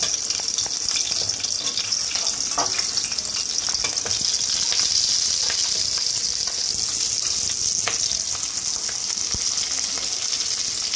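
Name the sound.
frying and stirring in a pan for mandi biryani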